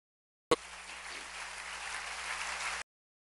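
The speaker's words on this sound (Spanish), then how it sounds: "Dale un aplauso." Steady applause from a church congregation breaks out with a sharp onset, holds at an even level for a little over two seconds, then stops abruptly; no voices over it.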